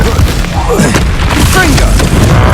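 An Incendio fire spell is cast in Hogwarts Legacy amid a magical duel, a loud booming burst with rushing, whooshing sweeps, close and dense, while a voice speaks through the clash.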